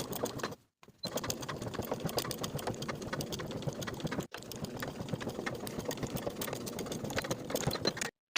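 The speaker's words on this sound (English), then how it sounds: "we're going to stitch the flap in place with a 3/8 inch seam allowance" A sewing machine stitches a pocket flap onto an unlined jacket with a 3/8 inch seam allowance, its motor whirring in one steady run that breaks off twice in short gaps, close and loud.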